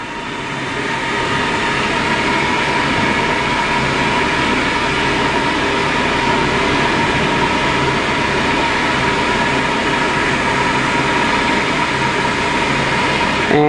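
A rotor spins steadily at 2,000 RPM during a balance test, giving a loud, constant mechanical whir and hum that holds an even level throughout.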